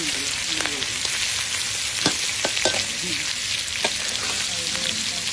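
Chicken frying in oil in a pan, a steady dense sizzle throughout with small pops and occasional stirring clinks, close and continuous.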